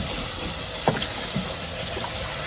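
Water runs and splashes into a cooking pot for sardine and odong noodle soup outdoors on a farm, a steady low pour with a couple of brief louder splashes.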